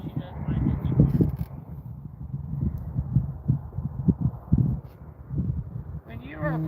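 A rescue horse is groomed with a brush: repeated rhythmic scratchy strokes close to the microphone, with soft shuffling and a brief voice near the end.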